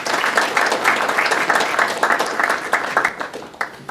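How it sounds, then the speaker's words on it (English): An audience at a forum and gala dinner applauds steadily for several seconds, a dense patter of many hands clapping at moderate loudness and fading slightly toward the end. "Thank you for the applause."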